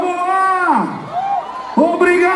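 A big outdoor concert crowd in Macapá chants a singer's name in a sustained, loud, ringing roar. The shouts swell and dip, then surge again, over a continuous hum of voices.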